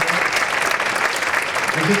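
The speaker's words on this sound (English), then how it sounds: "Give yourself a big round of applause." Audience applause fills a community awards night in Pleasant Hill, a dense, steady wash of clapping from a crowd, close and loud throughout with no break.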